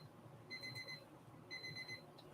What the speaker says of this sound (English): That's my timer for the other thing.